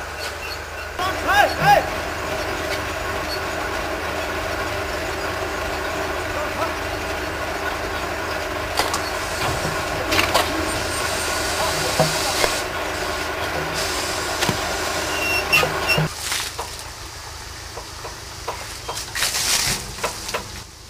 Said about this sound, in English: During the lunch break, the loco returns to the servicing area.